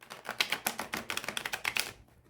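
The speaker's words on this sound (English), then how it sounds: "But still, it riffle shuffles beautifully." A Tarot de Marseille card deck is riffle shuffled close by, a quick, fluttering run of crisp card clicks lasting about two seconds before stopping, with no talking.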